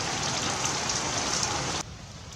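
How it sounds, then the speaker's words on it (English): Heavy freezing rain pouring down during a Quebec storm, a steady close hiss of drops that cuts off abruptly near the end to a quieter background. "It's pouring rain still, and it's freezing all the trees and creating ice."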